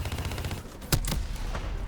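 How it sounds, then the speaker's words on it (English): Rapid gunfire with a sharp explosive burst in the Black Ops III video game, dense crackling shots continuing around a loud blast near the middle. "Look at that really cool explosion."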